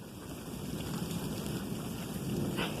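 Steady rain falls outdoors during a thunderstorm near a chicken house, a continuous soft hiss with a low rumbling wash underneath, even and close, with no voices.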